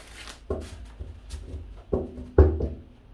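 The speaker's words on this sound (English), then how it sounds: "Let's give person B 5 shuffles here." Tarot cards are shuffled in a quiet room, giving several separate soft riffles and taps at an uneven pace. They sound close but fairly quiet.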